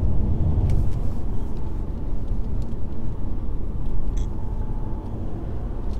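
A 2013 Mercedes C350 diesel car accelerating hard: a loud, steady low engine rumble and road roar from inside the cabin, sustained without letup and with no talking.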